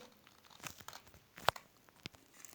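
Scissors snipping through paper cups in a craft session, quiet sparse cuts with one sharp louder snip near the middle and faint crinkles between.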